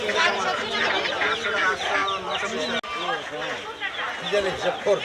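Native chickens cluck and squawk at a busy market, loud and close, mixed with steady bargaining talk from several people.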